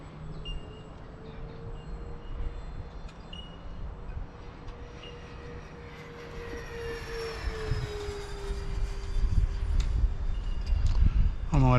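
A Freewing PJ50T RC private jet making a low pass in gusty wind: a rising whine and roar of its electric ducted fan, growing louder as it approaches, over wind noise with someone talking.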